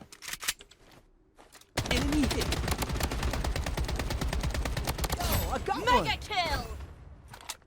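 A suppressed gun fires in Blood Strike, producing a dense run of rapid muted shots that begins after a few quiet seconds with scattered clicks and ends in a burst of metallic ringing, with faint talk nearby.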